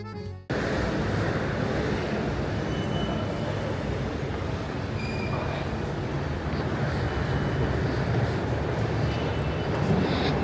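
A Milan metro train rumbles steadily, a loud, dense roar of wheels and carriage noise that holds unbroken from start to end with no speech.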